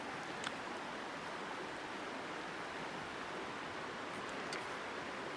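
River water flowing steadily during a crossing on the Appalachian Trail, a faint, even wash of rushing noise with no voices.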